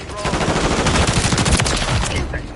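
Sustained automatic gunfire in Modern Warfare 3: loud, dense rattling bursts throughout, near and continuous, with a voice faintly mixed in.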